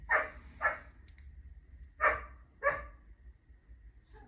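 A dog barks four times in two pairs, sharp and fairly close against a quiet background, with no talking.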